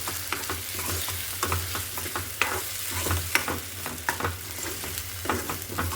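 Toor and urad dal being stirred and sautéed in a pan, with a steady sizzle and frequent scraping clicks of the spoon, close and fairly loud, with no talking.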